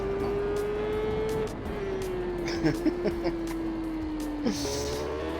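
Superbike engine in the racing game TT Isle of Man 3, a steady high drone holding pitch and sagging slightly over several seconds, then a sharp gear change near the end, with brief clicks over it.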